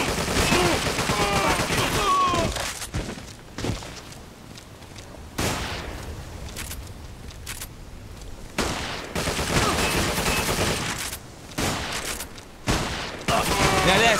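Gunfire rattles through the video game 50 Cent: Bulletproof in repeated bursts and single shots set in a warehouse, loud and close, broken by short quieter gaps, with someone talking excitedly over it.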